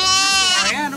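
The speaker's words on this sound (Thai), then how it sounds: "ตัวนี้เป็นแกะ" A sheep bleats up close at an animal farm in Chiang Mai, Thailand, giving one wavering, quavering cry over a busy background where voices seem to mix in.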